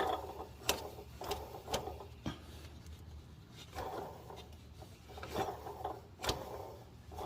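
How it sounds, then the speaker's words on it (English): Mechanical clicking and ticking as a car engine pulley is spun by hand with the engine off, with irregular sharp taps and a soft whirring in between; fairly quiet overall. "Spinning the pulley."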